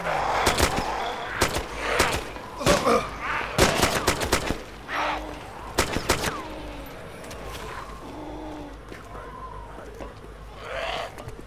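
Gunfire and a grenade blast in Arma 2 DayZ Namalsk, with loud repeated shots and bursts crowding the first half, then sparser cracks and quieter noise, voices faintly in between.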